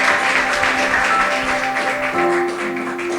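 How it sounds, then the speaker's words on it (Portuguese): Church congregation clapping in praise at the close of a service, steady applause from a room of worshippers with sustained music tones ringing underneath. "Louve ao Senhor com as suas palmas."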